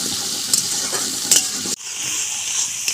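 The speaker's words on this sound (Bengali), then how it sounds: "2 থেকে 3 মিনিট মতন টমেটো আর পেঁয়াজটা কষিয়ে নেব।" Ground tomato and onion sauté in a pan with a constant bright sizzle and a few spoon clinks against the metal. The sizzle briefly cuts out partway through, then resumes. The sound is close, with no speech.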